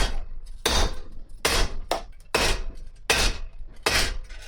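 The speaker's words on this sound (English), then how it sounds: "I'm hitting it with the edge of the hammer, putting some dents in." The edge of a hammer strikes a small scrap piece of sheet metal about six times in a steady rhythm, each blow a sharp, loud metallic clank with a short ring, heard close with no talking.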